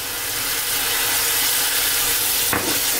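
A prawn curry base sizzles steadily in a pan as it is stirred, with a loud, continuous hissing fry and a brief scraping stir near the end.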